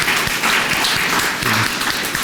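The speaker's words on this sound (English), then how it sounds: "So everybody give Adam a round of applause" An audience at a keynote talk gives a round of applause, dense continuous clapping from many people filling the room at a steady, fairly loud level with no talk over it.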